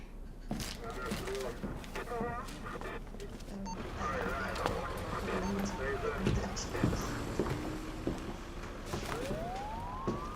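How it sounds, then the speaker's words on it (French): An ambulance siren wails beneath hurried dialogue in a tense police drama scene, the rising and falling tone sweeping in clearly near the end while people talk over it. "Une ambulance, ils s'en viennent"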